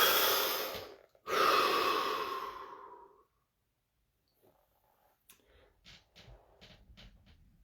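A long, deep breath during a guided body-scanning meditation session, a drawn-in inhale then a slow audible exhale, followed by quiet faint rustles and soft sounds.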